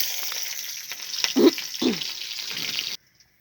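Black cumin, bay leaf and slit green chilies frying in hot oil for a Bengali vegetarian dish, a steady close sizzle with a couple of louder crackling bursts, ending abruptly in silence.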